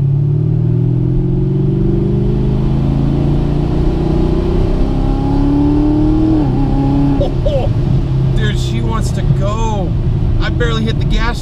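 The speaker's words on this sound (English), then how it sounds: "Oh, you can hear it spin up." ProCharger P-1SC-1 supercharged car accelerating with the engine rising in pitch and a whining supercharger spinning up, loud and close inside the cabin, with a voice speaking over it.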